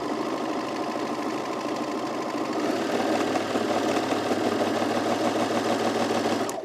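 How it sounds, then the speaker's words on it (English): An overlocker (serger) runs continuously while finishing a curved fabric edge, producing a steady close mechanical whir and chatter that builds slightly louder partway through, with no voices. "now I'm going to just overlock the edge, this curved edge"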